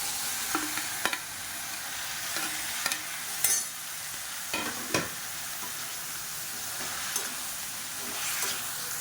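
Onions and three chopped medium tomatoes sauté in a pan with a steady close sizzle, punctuated by regular scraping strokes and spoon clinks against the pan.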